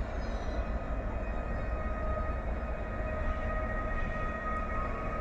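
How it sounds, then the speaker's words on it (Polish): A passenger train rumbles along the rails in Katowice with a continuous rolling roar and faint high metallic squeal, steady and close throughout. "Z pociągu osobowego."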